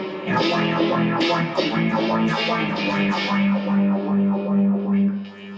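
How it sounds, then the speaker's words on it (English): Distorted electric guitar through a Yamaha DG60FX-112 amp playing chords with a sweeping, whooshing phaser effect, loud and steady, no voices. "a bit of phaser there"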